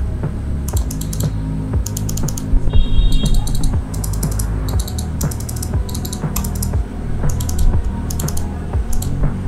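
Sharp, close clicks from an A4tech Fstyler FB10C wireless mouse come in short irregular clusters over a steady low background hum.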